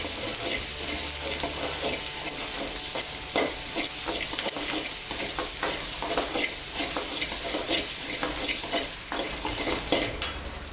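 Onions and fenugreek seeds fry in a pan for a village-style pepper tomato curry, a loud, dense, close sizzle with continuous stirring and scraping throughout.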